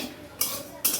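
Mung dal is dry-fried and stirred in a pan, with two quick, close scraping strokes of a spoon against the metal over a faint background.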